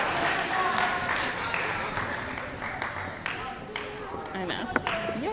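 A crowd at an 8th grade school awards program applauds a group of students, a steady wash of clapping mixed with cheers and voices that gradually thins out.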